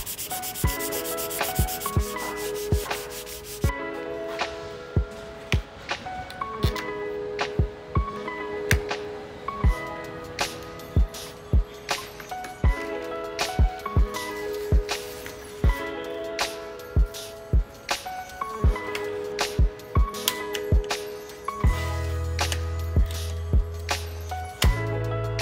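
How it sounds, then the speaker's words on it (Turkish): Rhythmic hand sanding of body filler on a car roof, scraping back and forth on a hard surface, strokes repeating steadily and close, no voices. "Tavanın arka kısmındaki dolgu macunlarını da hızlı bir şekilde zımparayla düzelteceğim."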